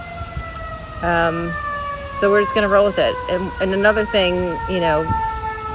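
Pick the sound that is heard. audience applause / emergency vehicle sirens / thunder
emergency vehicle sirens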